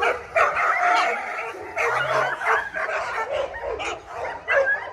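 A big dog at a kennel barks and whimpers close by in a string of yips, short barks and whines, loud and uneven.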